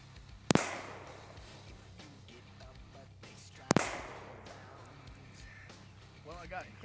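Two sharp, loud shots from an SCCY pistol fired outdoors, about three seconds apart, each a single crack with a brief decaying tail over a low background hum.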